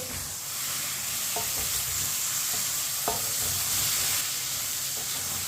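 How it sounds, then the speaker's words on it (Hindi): Chopped tomatoes and green chillies frying in a pan for a karela daal, a loud, steady hissing sizzle throughout, broken by a few soft knocks of a spoon stirring close by. "टमाटर और सब्ज मिर्च को मैंने मिक्स कर लिया है।"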